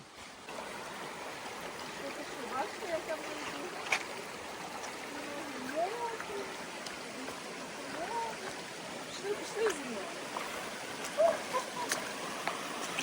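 Steady rushing of a flowing Carpathian forest stream fills the background, with faint voices and small splashes rising now and then above the water.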